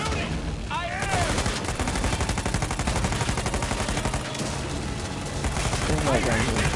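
Rapid gunfire in the video game Uncharted 4, dense automatic bursts and overlapping shots crackling almost nonstop, with players shouting over the barrage.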